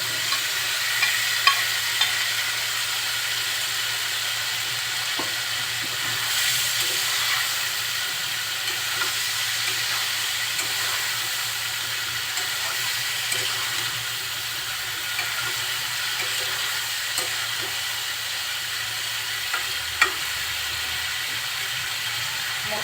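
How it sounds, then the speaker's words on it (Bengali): Fried cauliflower and potatoes being stirred into sizzling masala in a pan for a rohu fish curry, a continuous hissing fry with scattered soft scrapes and clinks of the spoon, no voices. "মশলার সাথে খুব ভালোভাবে নাড়াচাড়া করে একটু কষিয়ে নিচ্ছি।"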